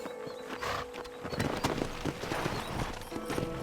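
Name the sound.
horse galloping in Red Dead Redemption video game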